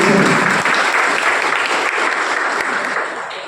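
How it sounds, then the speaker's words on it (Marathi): A parents' meeting audience breaks into loud, sustained clapping to congratulate a woman, the dense applause holding strong throughout and tapering off slightly at the end. "ताई प्लीज त्या ताईंचं आपण जोरदार टाळ्या वाजून एकदा अभिनंदन"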